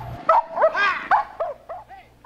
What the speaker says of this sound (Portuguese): nosso cão policial, que vai estar atuando nessa atividade específica